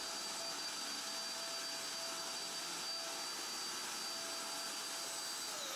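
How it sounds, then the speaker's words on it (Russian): A newly bought vacuum cleaner, used for cleaning a car, runs steadily with a loud, high whine and constant airy roar, close and unbroken throughout, with no voices. "Мы взяли вот такой вот пылесос."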